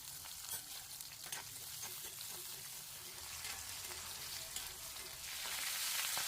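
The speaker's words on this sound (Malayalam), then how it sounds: "പിന്നെ നമ്മുടെ മെയിൻ ഹീറോ മുരിങ്ങയിലയും ജസ്റ്റ് ഒന്ന് വെളിച്ചെണ്ണയിലിട്ട് വാട്ടിയെടുക്കണം" Moringa leaves sauteing in coconut oil for a chammanthi give a soft, steady sizzle with light stirring, fairly quiet and continuous, growing slightly louder toward the end.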